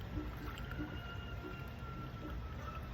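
Steady low gurgling and bubbling of coolant moving through a radiator hose on a 2011 Chevy Tahoe 5.3L after a water pump change, continuous and close, with no voices.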